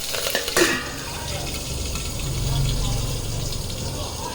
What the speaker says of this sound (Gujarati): હવે એમાં થોડી રાઈ નાખીશું। રાઈ નાખીને લીલા મરચાં નાખી દઈશું।